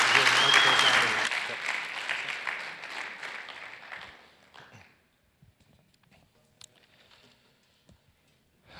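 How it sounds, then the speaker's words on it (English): Banquet audience breaks into loud applause that gradually thins out over a few seconds and fades to near silence, with a few faint scattered claps and rustles afterward. "Would you guys give them a round of applause?"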